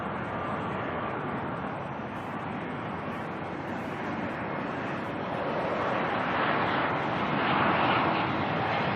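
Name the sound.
ATR turboprop airliner departing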